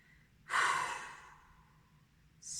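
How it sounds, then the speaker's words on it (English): A single deep breath drawn in and slowly released, loud and close at first and trailing off into quiet, with a second breath beginning at the very end; no talking. "Breathing, oh my god, deep, deep breathing into my belly."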